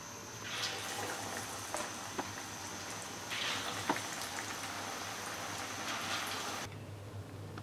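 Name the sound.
pumpkin and onion pakora batter frying in oil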